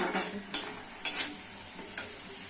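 Spice paste with chopped coriander being stir-fried for a fish curry, a low steady sizzle broken by a few sharp scrapes of a spoon against the pan.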